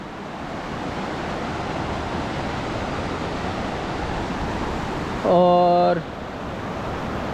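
The Balganga river rushing at its confluence with the Dharmaganga near Budha Kedar, a steady broadband roar throughout, briefly overlaid by a short voiced tone near the end.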